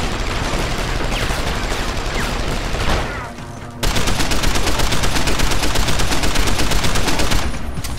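Rapid automatic gunfire in Deus Ex: Human Revolution, sustained bursts hammering at a wall, loud and dense with a brief lull before a steadier, rhythmic volley.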